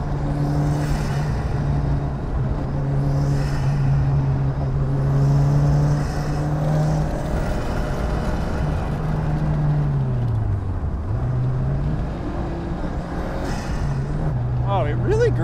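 A Lancia Futurista rally restomod's engine hums and rises and falls in pitch as it accelerates and shifts on a twisty California road, heard from inside the cabin with someone speaking briefly over it.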